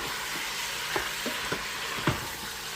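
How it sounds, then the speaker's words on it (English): Meat sautés in oil in a pot for red beans and rice, a low steady sizzle with a few spoon-stirring knocks and scrapes, close by with no talking. "I'm going to get this all stirred up in here. Get that oil all over the meat"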